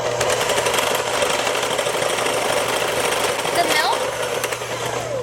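Electric mixer whipping Kool-Aid with heavy whipping cream, a steady high-pitched buzzing whir running throughout at close range, with a person talking over it.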